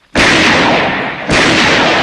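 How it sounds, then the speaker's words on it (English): Two loud, sharp gunshot blasts from the 1974 film Chinatown, the second about a second after the first, each ringing out with a long echoing tail. "Oh, gunshots! Already!"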